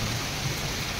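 Steady rain falling in a monsoon downpour, a dense continuous hiss with a low rumble underneath, fairly quiet and unbroken.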